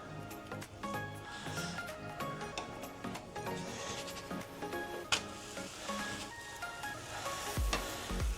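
A thin pancake fries in a pan over a gas flame with a steady, quiet sizzle and bubbling, plus occasional soft clinks and scrapes from kitchen utensils.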